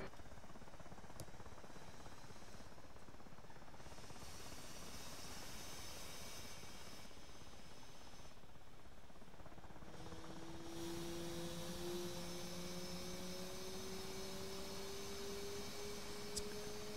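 A jet taking off from a supercarrier deck in the DCS combat flight simulator, a steady loud engine roar with a rising whine, continuous throughout and no voices.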